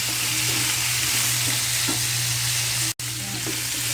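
Baby potatoes fry in olive oil with rosemary, giving a steady dense sizzle close by, with soft scrapes of stirring and a brief dropout near the end; no talking.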